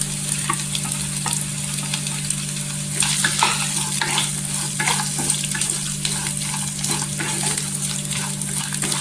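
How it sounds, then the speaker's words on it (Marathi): Ghee-roasted barnyard millet being stirred into a hot pan for fasting upma, with steady close sizzling and frying under scraping stirring strokes throughout, no talking. "इथे बघा ही आपण तुपामध्ये वरी भाजून घेतलेली ती पण टाकायची इथे"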